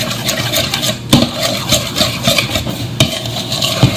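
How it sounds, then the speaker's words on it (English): Steady, loud scraping and stirring of a pimento cheese mixture with red pepper and grated onion in a bowl, a continuous close rhythmic rasp with a couple of sharper knocks against the bowl. "I'm going to stir this up real good"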